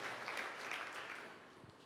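A church congregation applauds God, the clapping soft and distant, a steady, even wash of many hands through the short stretch.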